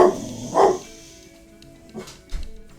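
Dogs barking in a few short bursts, one louder pair of barks near the start and fainter yips later, somewhat distant in a quiet room.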